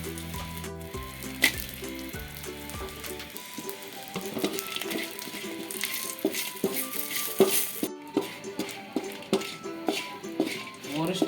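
Four or five dried red chillies fry in a pan for a raw tomato mash, giving a crackling sizzle with clinks of a utensil against the pan, close and fairly quiet after some louder kitchen sounds at the start.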